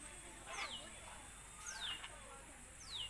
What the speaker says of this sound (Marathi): हा एक पोपट आलेला आहे.